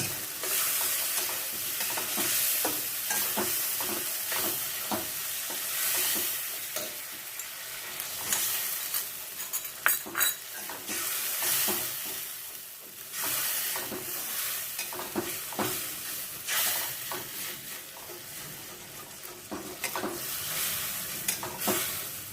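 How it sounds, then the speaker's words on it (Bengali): Turmeric and chilli masala fries in oil in a pan for pabda fish curry, a long, steady close sizzle punctuated by frequent rhythmic scraping stirs, with no talking. "মশলাটা বেশ ভাজা ভাজা হয়ে গেছে"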